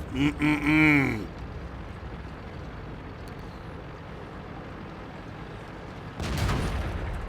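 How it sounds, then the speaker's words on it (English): Artillery fire in the World of Tanks video game: a brief voice at the start gives way to a steady low rumble of battle noise, then a loud booming blast near the end. "Frickin' artillery"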